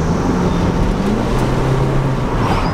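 An EK hatchback car downshifting as its engine revs, a loud steady drone heard from inside the cabin with a rising engine tone near the end.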